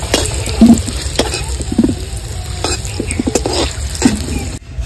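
Potatoes coated with turmeric powder frying in oil for a mutton curry, a loud close crackle with sharp spatula scrapes and taps in an irregular rhythm, stopping abruptly at the end.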